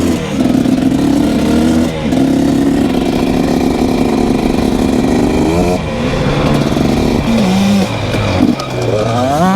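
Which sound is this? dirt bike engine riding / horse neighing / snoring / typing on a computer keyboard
dirt bike engine riding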